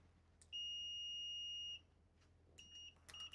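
An electronic device on a repair bench emits a sustained high electronic beep of about a second, followed by shorter chirping beeps, clear and close in an otherwise quiet room.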